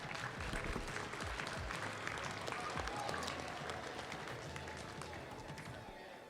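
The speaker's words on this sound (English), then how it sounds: "Can you give them a round of applause, please?" A room full of people at a speech event applauds, steady clapping throughout that gradually thins and fades toward the end.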